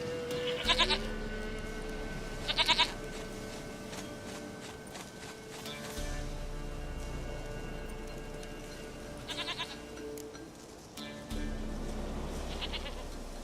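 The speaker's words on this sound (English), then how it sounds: "Goat of mine, dearest, sweetest goat." A goat bleats in the video game The Witcher 3, giving several short, wavering calls spaced a few seconds apart over a low ambient background with faint hoof-like steps.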